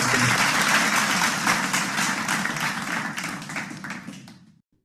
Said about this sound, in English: Parth bhai, one round of applause, please.